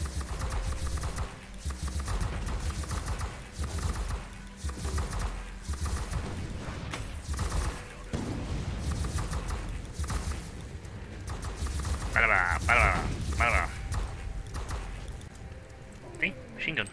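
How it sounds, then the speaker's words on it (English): Rapid machine gun fire from Warhammer 40k: Inquisitor - Martyr rattles in dense, sustained bursts over background game sound, with a few sharper bursts near the end. "See? Machine gun."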